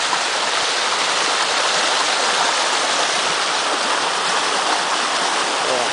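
Water gushes loudly and continuously from a spring at the Bolomor fountain, a steady close rushing roar with no voices.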